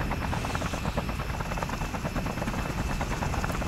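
A news helicopter in the video game Just Cause flies steadily, its rotor beating in a fast, even chop under a loud continuous engine whine throughout.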